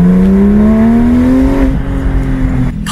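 Porsche GT3 RS sports car engine revving up at a Toronto supercar event, a loud, close rising whine that climbs for over a second and then drops back.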